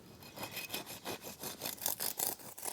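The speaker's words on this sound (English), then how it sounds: "I'm going to cut this loaf." A knife saws through the crispy crust of a seeded sandwich bread loaf in a quick, regular series of rasping back-and-forth strokes, close and fairly quiet.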